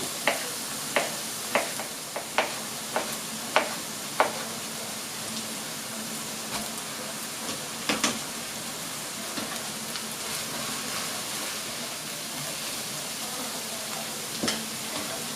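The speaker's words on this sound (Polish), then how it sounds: "Cebulka nam się podsmaża wystarczy, żeby się zeszkliła." Chopped onion sizzles steadily in a pan for a one-pot family summer dinner, a continuous bright frying hiss broken by a string of sharp clicks and taps, stirring utensil knocks near the start, with no talk.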